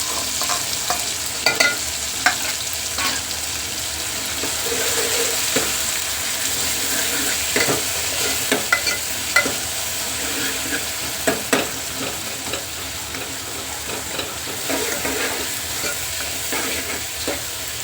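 Ground garlic and cumin paste sizzles steadily in a hot pan, with a spoon scraping and stirring in irregular clicks over a continuous close, bright frying hiss and no speech.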